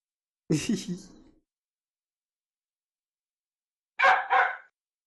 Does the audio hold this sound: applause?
no